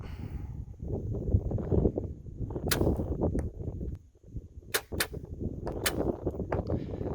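Arrows loosed from a bow strike a target bag during archery practice and sight adjustment, several sharp thwacks spread through the clip over low background rumble and wind.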